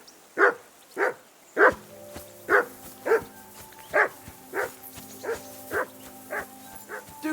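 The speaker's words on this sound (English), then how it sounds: "Quiet, you wee bit hound." A dog in Kingdom Come: Deliverance II barks in a steady rhythm, about a dozen loud, close barks roughly half a second apart, over soft tonal background music.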